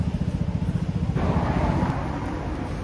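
Kawasaki Z650 motorcycle fitted with an SC Power aftermarket exhaust, running close by with a pulsing engine note that turns into a steadier, louder rumble as the throttle opens.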